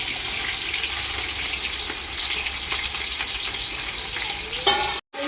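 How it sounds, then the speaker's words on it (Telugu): Chopped onion pieces and green chilies sizzle steadily in a handi pot for hotel-style mutton curry, a constant close frying hiss with light stirring that cuts out abruptly near the end. "ఉల్లిపాయ ముక్కలు వేసేసుకోండి."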